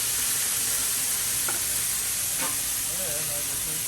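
An A5 wagyu burger patty and onions sizzle steadily on a hot griddle, a loud continuous hiss with faint scraping touches.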